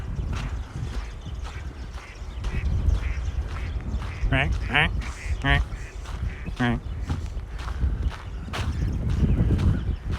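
A man out walking imitates a duck with several nasal quacking calls in short bursts, mixed with his own talk and outdoor background noise.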